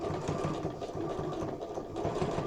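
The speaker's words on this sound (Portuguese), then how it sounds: "aumento o ponto da minha máquina e vou seguir fazendo a costura de acabamento" A sewing machine runs steadily at a lengthened stitch, sewing a finishing seam along a zipper on a garment, a continuous close mechanical whir with a fast rhythmic hum throughout.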